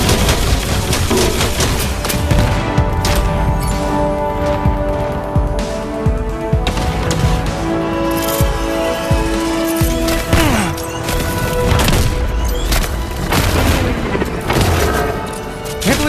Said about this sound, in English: Your repulsors should be able to destroy those missiles.